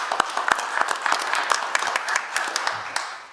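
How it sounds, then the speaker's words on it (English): Applause from an audience at a Warren County Fiscal Court meeting: a dense, steady patter of many hands clapping for a few seconds, with sharper individual claps poking through. "give them a round of applause."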